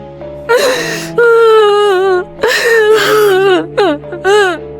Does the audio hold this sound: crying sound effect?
yes